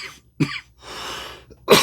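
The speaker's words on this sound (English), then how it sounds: "Can't stop coughing." A person coughs in a short burst: a few harsh, close coughs and throat-clearing sounds separated by brief breaths, ending with a louder cough, with no speech.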